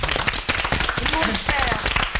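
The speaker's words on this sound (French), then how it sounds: "On peut vous applaudir." Studio audience at the Canal+ morning show Nulle Part Ailleurs (2001) applauds in a dense, steady burst of many hands, close and loud, with voices mixed underneath.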